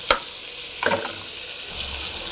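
Curry leaves and coriander sauté in a pan for a Tamil kuppaimeni soup, with a steady soft sizzle and a couple of sharp scraping stirs close by.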